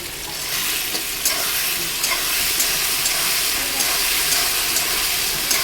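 Ground spices with black cumin and black mustard seeds frying in hot oil, a steady loud sizzle with occasional crackles and stirring scrapes throughout.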